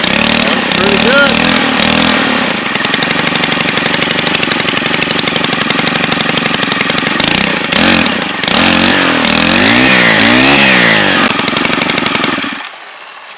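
A Stihl KM 90 R two-stroke engine, freshly fitted with a replacement short block, runs loud and close with a buzzing, rattling idle and repeated throttle blips that rise and fall in pitch before shutting off; a voice can be heard faintly.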